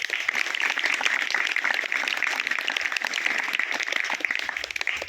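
An audience of parents at a school parents' meeting applauds, a dense, steady clapping that holds for the whole stretch at close range and thins slightly at the very end.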